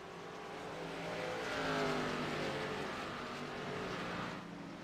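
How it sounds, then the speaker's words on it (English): Xfinity stock cars in an iRacing race at New Hampshire pass down the front stretch, engines droning and swelling to a peak before fading slightly, a blended roar of several cars with no voices. "Down the front stretch they go at the line."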